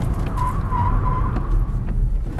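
A car slides with tires skidding while the driver accelerates and steers, a wavering squeal over a constant engine rumble, close and continuous throughout.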